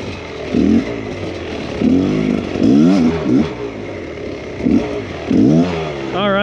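A Beta enduro motorcycle engine revs in short repeated bursts, rising and falling in pitch several times, close by with clattering mechanical noise and no talk.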